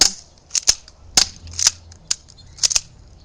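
A KWC 1911 airsoft spring pistol being fired in a competition, giving sharp snappy cracks in quick uneven pairs and singles, about eight shots in a few seconds, close and loud with quiet gaps between.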